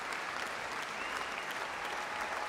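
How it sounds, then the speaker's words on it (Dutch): A concert audience gives a standing ovation after a chamber music performance of a piano trio at a festival in Utrecht, with sustained, even clapping from a full hall, continuous and somewhat distant. "Voor meer applaus. Staande ovatie."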